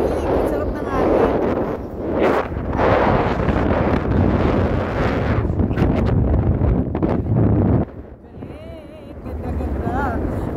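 Cool wind gusts across the microphone in the hills of Bukidnon, Philippines, a loud, steady roar with buffeting bursts and a brief lull near the end, while people talk over it.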